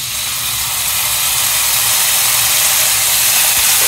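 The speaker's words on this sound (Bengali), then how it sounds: "হালকা তেল দিয়ে মশলাগুলো দিয়ে দিচ্ছি।" Spices fry in a little hot oil for a whole roast cauliflower, giving a loud, close, steady sizzling hiss that lasts throughout.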